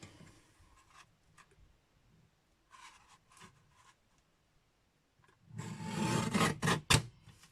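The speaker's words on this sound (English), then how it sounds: "I've then got my little guillotine, and I'm going to pop that through." A small paper guillotine trimmer slices through card for a Stampin' Up! papercraft project, giving a loud, rasping chop near the end after a few faint scrapes and taps of positioning.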